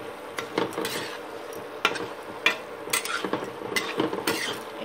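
A spoon scrapes and clanks against a kadhai while lauki sabzi is stirred on an induction cooktop, with irregular close metallic knocks and scraping strokes.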